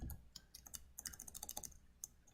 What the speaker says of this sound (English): So just type it again.